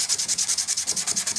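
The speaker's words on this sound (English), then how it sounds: "So now, just doing a little bit of sanding, just take some of the crap" Rhythmic hand sanding of a forged steel BBQ spatula with 120-grit wet and dry paper, about nine quick, even back-and-forth hissing strokes, close and steady with no voices.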